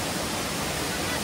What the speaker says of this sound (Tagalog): Yung lagas-gas ng tubig. Ang sarap pakinggan.